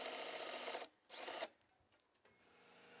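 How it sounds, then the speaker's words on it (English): A power drill drills and countersinks mounting holes in a sill adapter for a Mirage retractable screen on a double French door, in two short whining bursts close by, followed by faint handling noise. "Drill and countersink 3 mounting holes, one 3 inches from either end and one in the center."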